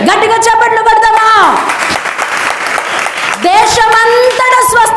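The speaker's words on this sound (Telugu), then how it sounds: "గట్టిగా చప్పట్లు కొడదామా?" A congregation at a fasting prayer service breaks into a burst of loud applause lasting a couple of seconds. The clapping sits between stretches of a strong, amplified voice that dominates before and after.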